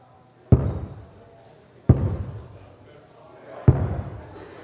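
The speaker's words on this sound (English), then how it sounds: "Someone was slamming a basketball into the ceiling above them as hard as they could" A basketball is slammed into a ceiling from the room above, three heavy booming thuds spaced about a second and a half apart, each fading quickly into quiet.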